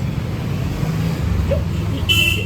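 A motorbike that keeps stalling gives a low, steady engine rumble close by, with a brief higher-pitched tone near the end.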